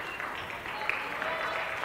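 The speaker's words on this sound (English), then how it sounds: "Hear the applause from the CG fans." Center Grove fans applaud at a home girls' basketball game against Edinburgh, a steady wash of clapping from the gym crowd, moderately loud and continuous throughout.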